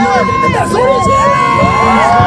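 A packed crowd at a KT Wiz baseball game in Suwon shouts and cheers together, a dense, loud and continuous roar of voices close by.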